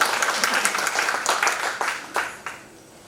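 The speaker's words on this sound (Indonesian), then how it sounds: "kita berikan tepuk tangan" Applause from the audience at the opening of a church-run disaster risk reduction workshop, brisk clapping that swells in waves and then thins out to a few last claps.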